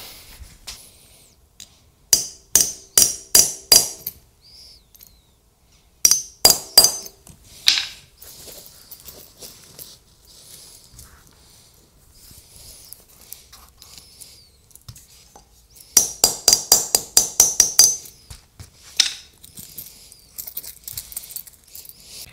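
Bursts of rapid metallic hammer taps in quick clusters, separated by quiet pauses, close and sharp, repeating several times.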